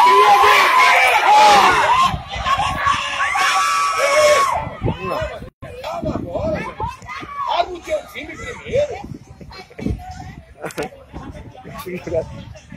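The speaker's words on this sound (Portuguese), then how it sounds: "O jogador com tanta gritaria está mais perturbado do que" Spectators shout and cheer loudly at an amateur city football championship match between Guarani and TMA, a dense roar of voices that rises and falls in bursts with individual yells standing out.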